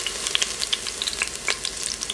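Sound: garlic sautéing in extra virgin olive oil in Instant Pot

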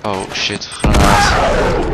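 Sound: grenade explosion in Uncharted 3 video game

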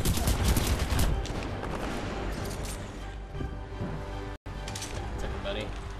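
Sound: gunfire in the video game Titanfall 2

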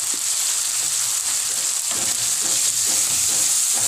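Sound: sautéing vegetables with pepper for pinakbet

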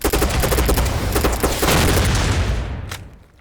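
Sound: gunfire in the video game Poly Squad

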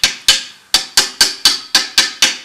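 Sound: brass hammer tapping thrust bearing into place

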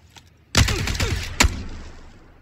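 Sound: UMP gunfire in PUBG video game

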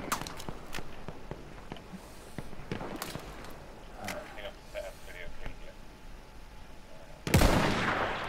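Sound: gunfire from a video game (Battlefield 1)

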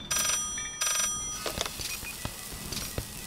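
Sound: telephone ringing in a video game (Rec Center Tycoon)

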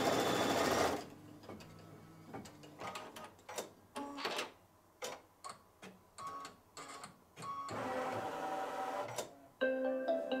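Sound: embroidery sewing machine stitching a quilt design

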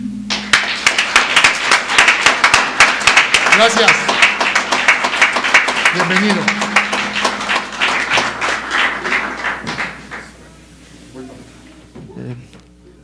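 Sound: applause

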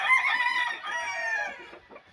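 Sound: rooster crowing and clucking

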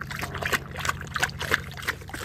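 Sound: Rottweiler dog drinking water

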